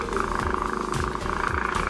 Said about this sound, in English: a cat purring?